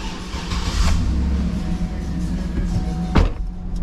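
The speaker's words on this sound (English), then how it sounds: "starting the engine" The engine of a Cadillac Escalade fitted with a locking rear axle cranks and catches, then settles into a low rumble, with a sharp knock near the end.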